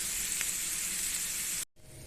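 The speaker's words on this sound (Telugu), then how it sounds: "ఇలా అదే ఆయిల్లో కొంచెం తాలింపు గింజలు వేసుకొని అవి గోల్డెన్ కలర్లో వేగిన తర్వాత ఆనియన్స్, పచ్చిమిర్చి ఇంకా కరివేపాకు వేసి కలుపుకోవాలి." Onions, green chillies and curry leaves sizzle and fry in hot oil, making a steady close crackling hiss that cuts off abruptly near the end.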